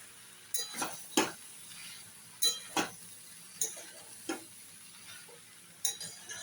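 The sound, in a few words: sautéing shrimp and banana stem in a pan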